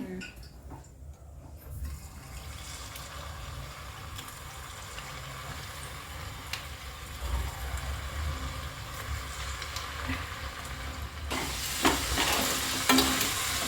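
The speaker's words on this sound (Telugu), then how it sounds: "సో అందులో డీప్ ఫ్రై చేసేసుకోవాలి." Sweet dough snacks for Sankranti deep frying in a pan of hot oil, a steady dense sizzle and bubbling that runs continuously close up, growing a little louder and brighter toward the end, with no talking.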